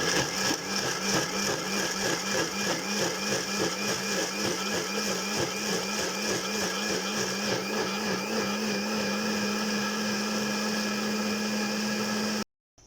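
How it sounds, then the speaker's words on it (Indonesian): An electric blender whirs steadily, blending soaked rice, coconut and water into a smooth batter, a loud, continuous motor drone for about twelve seconds before cutting off abruptly. "sekarang aku tutup, kita blender sampai halus"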